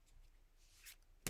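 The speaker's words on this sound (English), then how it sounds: "I'm going to give it 3 casual shuffles." Soft, brief riffling bursts of playing cards being shuffled, quiet and close, ending in a sharper snap.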